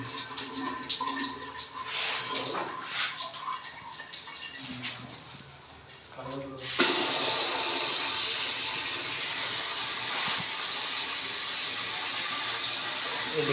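A sensor-activated basin tap in a newly fitted bathroom starts running, the water rushing out in a loud steady hiss that continues after the clatter and faint background talk before it.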